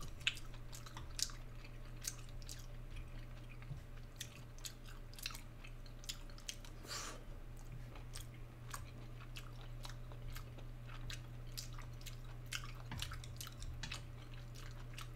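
Close, quiet wet chewing of cow tripe and shiitake mushrooms in an ASMR mukbang, with irregular soft bites and squishy, slightly crunchy smacks repeating over a low steady hum.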